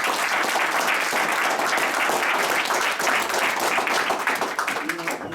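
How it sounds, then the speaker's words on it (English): A seated audience at a philosophy talk breaks into sustained, dense applause, steady and fairly loud from start to finish, tapering slightly at the end. "I want you all to give yourself a very robust hand of applause right now."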